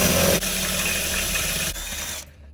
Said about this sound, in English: Drill a pilot hole so we can get the bigger drill